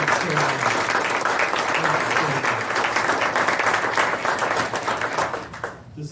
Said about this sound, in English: So I ask you to please give a round of applause.